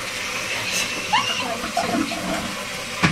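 A toilet flushes in a bathroom with a steady rush of water running throughout, close and fairly loud, with a few brief clinks and a faint voice near the end.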